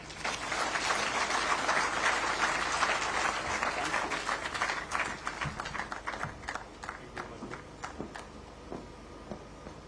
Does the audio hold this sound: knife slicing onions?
no